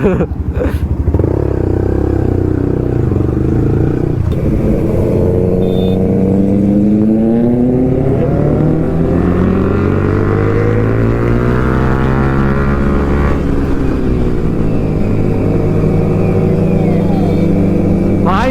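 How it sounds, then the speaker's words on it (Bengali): Loud engines roar and rev close by, pitch sweeping up and down as two superbikes, including a Benelli 600i, pass one after another in Kolkata, with a steady engine drone underneath. "দুটো সুপার বাইক পর পর"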